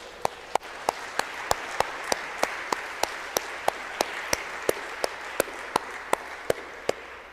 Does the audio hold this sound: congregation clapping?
yes